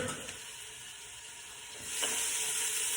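Chopped onions stirred in a hot pan: a steady bright sizzling hiss throughout, close and fairly loud, swelling slightly as the onions are moved about, with no talking.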